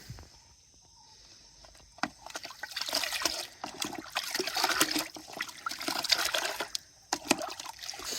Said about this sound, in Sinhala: මේකට දැන් කැප්ටන් කලවම් කරගන්න ඕනේ.